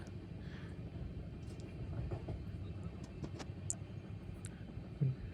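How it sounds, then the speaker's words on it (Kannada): Continuous low rumble of a passenger train moving at about 60 km/h, steady and droning, with occasional faint clicks and rattles on top. "ಟ್ರೈನ್ ಸ್ಪೀಡು ಸಿಕ್ಸ್ಟಿ ಸಿಕ್ಸ್ಟೀಲಿ ಹೋಗ್ತಿದೆ"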